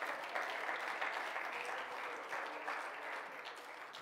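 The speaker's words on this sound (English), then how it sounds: "If you believe that, clap your hands tonight." A church congregation claps hands together in a sustained, fairly faint wash of applause, steady throughout.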